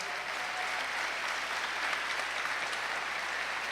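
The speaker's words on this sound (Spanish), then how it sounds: "denme un fuerte aplauso al Señor." A church congregation gives a strong round of applause to the Lord, sustained crowd clapping heard from some distance and fairly faint, with no voices on top.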